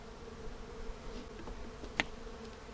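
Honey bees buzzing around a hive with a honey super added, a steady low droning hum with a brief sharper buzz of a bee passing close; no talking.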